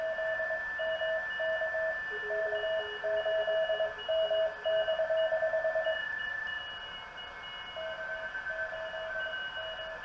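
Steady electronic tones and beeping carrier-like whistles of a sideband signal from a Teensy 3.5-based radio receiver over a hissy background, with pulsed tones on and off throughout; no voices.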